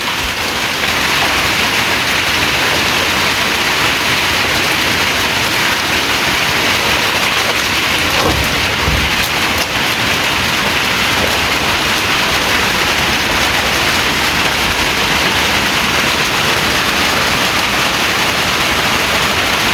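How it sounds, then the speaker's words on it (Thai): Heavy rain pours down near a village, a dense, loud, unbroken hiss and roar that stays steady throughout with no voices. "ฝนตกหนักเลยไม่สามารถกลับบ้านได้แล้ว"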